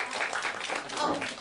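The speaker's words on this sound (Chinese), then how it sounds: "来，我们来拍手欢迎我们的小妹妹" A room audience claps together to welcome a two-year-old girl at a holiday children's science session. The clapping is a dense, steady wash of many hands lasting the whole moment, with no speech over it.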